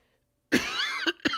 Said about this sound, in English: I got like a cough